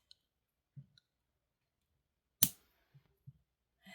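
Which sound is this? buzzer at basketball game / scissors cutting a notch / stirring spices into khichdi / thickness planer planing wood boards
scissors cutting a notch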